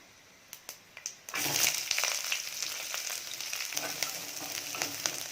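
Cumin and mustard seeds crackle and pop in hot oil, then a loud, steady sizzle takes over as onion, garlic and curry leaves go into the pan. The sizzle stays close and continuous, with no voices.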